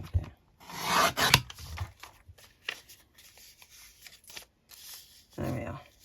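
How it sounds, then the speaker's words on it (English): Paper being burnished along a fold of a one-sheet folio, with bursts of dry rasping rubbing strokes, close and fairly quiet, separated by brief pauses. "Give it a bit of a burnish."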